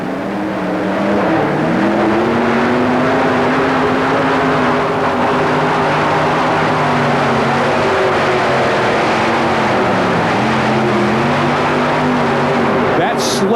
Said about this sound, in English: Whoever can pull that heavier sled the furthest is going to get the win